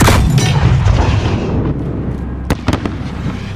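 Explosions tear through the Embassy Under Siege battle in Call of Duty Modern Warfare: a loud, sustained booming rumble with crackling debris that thins out, then a couple of sharp blasts punch through near the end.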